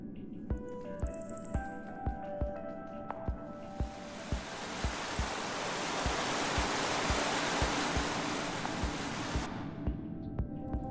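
A waterfall in the Minecraft Story Mode video game gives off a broad, steady rush that swells and holds for several seconds. A regular ticking beat plays throughout, along with tonal game music.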